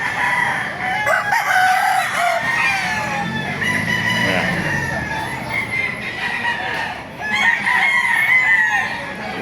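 Roosters, including white Kelsos, crow repeatedly at a Philippine poultry market in Baliuag, Bulacan, overlapping one another, with clucking and a brief spoken word amid the farmyard noise.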